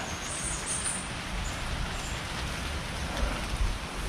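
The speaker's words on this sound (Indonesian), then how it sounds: "Hujan pun dah lebat." Heavy rain pours steadily outside a long-abandoned dormitory kitchen, a dense, unbroken hiss with a low rumble throughout and a couple of slightly louder surges near the end.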